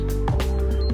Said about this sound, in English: That's the sound of the motor when it swivels.